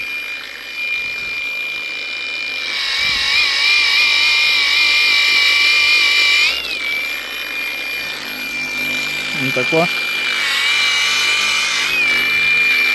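An angle grinder whines loudly and steadily up close, its pitch wavering as it polishes a meteorite, with a few brief words spoken over it.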